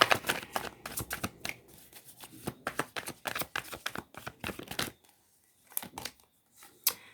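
Tarot cards riffled and shuffled by hand at close range, rapid crisp flutters in bursts, then a pause and a few cards slid and drawn, no speech.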